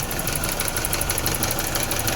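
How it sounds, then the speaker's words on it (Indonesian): A 1987 BMW E30 with an M10B18 four-cylinder engine runs at a steady idle, a dense, even mechanical drone with a faint rhythmic ticking, heard close and continuous throughout without any voices. "Suara mesinnya bisa didengar"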